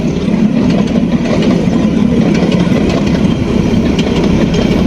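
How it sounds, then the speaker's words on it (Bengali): A train with an old engine pouring black smoke rumbles steadily and loudly close by, a continuous low engine drone with faint rhythmic rattling from the carriages. "আজকে ট্রেনটা চলতেছে যে দেখবেন কালা ধোয়া কালা ধোয়া আইতাছে এটা পুরান ইঞ্জিল মনে হয়"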